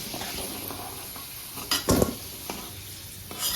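Vegetables fry in oil with a constant sizzle, while a utensil stirs and scrapes the pan in a few louder bursts near the middle and end.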